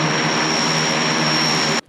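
An Antonov An-24/An-26 turboprop drones past, its steady propeller hum and engine whine holding even for nearly two seconds before cutting off abruptly.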